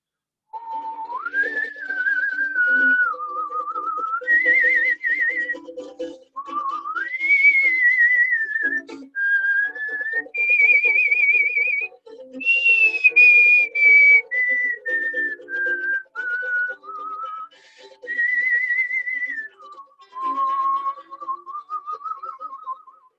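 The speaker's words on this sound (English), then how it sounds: "We'll start the intro by whistling." Group whistling of the intro melody of a song at a ukulele circle meeting held over Zoom: a clear, sustained tune in smooth phrases with brief pauses, fairly loud and alone.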